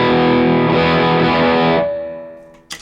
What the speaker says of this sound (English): So here's the tube dreamer by itself.